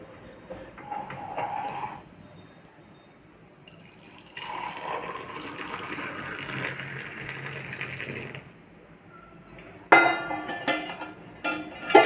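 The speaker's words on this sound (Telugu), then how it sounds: "ఈ వాటర్ దీంట్లో పోసేయాలి." Water is poured in several bursts, a splashing gush rising and stopping, with a louder clattering pour near the end.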